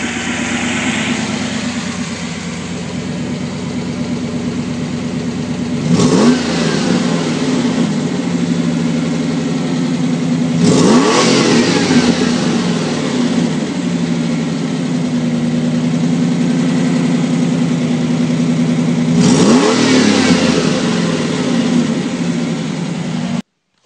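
A Ford Flareside truck engine idles steadily and smoothly, a continuous low hum with brief louder swells now and then, heard close and without voices.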